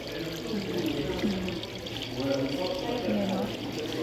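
Water runs steadily at the Roman Theater in Amman, a continuous trickling flow heard outdoors with faint voices and ambient noise mixed in.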